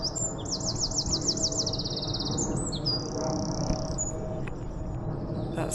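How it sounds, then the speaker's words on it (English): A wren sings in a botanical garden, its fast trilling, chattering phrases rising bright and clear over a steady bed of outdoor background noise. "That sound you can hear is the wren."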